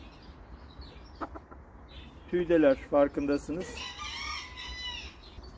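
A Ko Shamo rooster and a white hen clucking: short, clipped bird calls and clucks near the microphone, mixed with someone talking and some low background noise.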